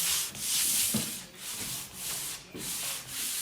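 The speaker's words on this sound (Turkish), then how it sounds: "Zımparamı yapıyorum. Budaklarımı biraz daha ortaya çıkarıyorum." Sandpaper rubs back and forth over wood knots built up in relief paste, a steady close scraping in repeated strokes with no voices.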